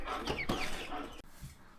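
Chickens cluck in short, soft bursts close by on a farm where quail are also kept, a few irregular calls with no talking.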